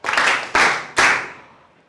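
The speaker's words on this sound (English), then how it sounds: "Okay, now clap for yourself." A classroom of physics students claps for themselves in three quick bursts, each sharp onset followed by decaying applause that fades out over the last second.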